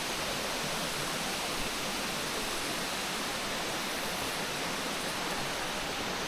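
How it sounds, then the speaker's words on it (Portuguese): A river in the countryside at Canela rushes past in a steady, even hiss of flowing water, unbroken and without voices. "a água do rio passando, cigarras cantando, pássaros"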